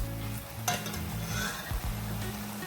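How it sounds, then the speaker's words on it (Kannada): Masala fries in a pan with a low, steady sizzle, broken by a couple of scraping stirs and clinks of the spatula, close and fairly quiet, with no voices. "ಇದು ಸ್ವಲ್ಪ ಹಸಿ ಸ್ಮೆಲ್ ಹೋಗೋ ತನಕ ಫ್ರೈ ಮಾಡ್ಕೊಳ್ಬೇಕು."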